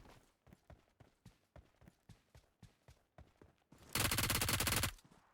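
Gunfire in the mobile battle royale game PUBG Mobile: a rhythmic series of single shots at steady intervals, then a sudden loud, dense burst of rapid fire lasting about a second before cutting off.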